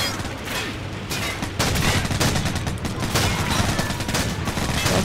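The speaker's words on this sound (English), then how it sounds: "He's shooting with the shotgun, which has no range." Shotgun fire in Call of Duty 4, a dense, continuous barrage of loud game gunfire and blasts filling the whole stretch with little pause.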